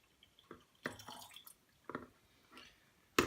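Ginger juice pours into a home-brewed alcoholic ginger beer mix, giving a few faint close drips and small splashes spaced irregularly, ending in a sharper splash, with no talking.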